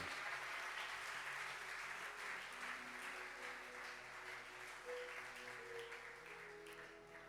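A congregation at a Sunday church service claps and cheers for the Lord in sustained, loud, dense applause that carries on steadily throughout, with faint voices and music mixed underneath.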